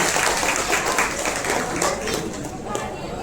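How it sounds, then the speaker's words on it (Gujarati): A crowd at a Barot community student felicitation event in Jamnagar breaks into applause after donors are announced, a thick, continuous patter of many hands clapping together, fairly close and steady. "એકવાર એને તાળીઓના ગડગડાટથી વધારીએ"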